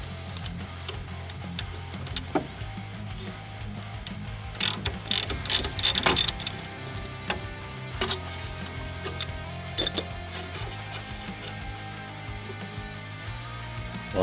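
Ratcheting clicks from a 10mm socket wrench loosening rear strut bolts on a 2000 Toyota Camry XLE 3.0L V6, with close, steady pawl ticking in repeated bursts and a few sharper metallic knocks, no talking.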